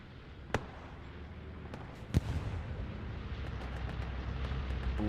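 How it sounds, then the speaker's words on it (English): Bombing run in the World War II shooter Hell Let Loose: two sharp, heavy explosions about two seconds apart, the second louder and closer, followed by a rolling rumble of further distant blasts. "Bomb run is also coming down."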